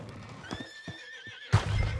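A horse in Red Dead Redemption 2 whinnies nearby with a few breathy snorts, then a heavier thump and rustle follows.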